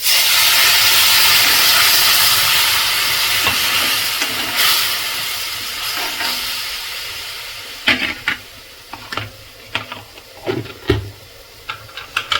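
Water poured into a hot pan of roasted spice powder for a Kerala buttermilk curry gives a loud, steady steam hiss for several seconds, then fades into softer sizzling with sharp intermittent pops and crackles.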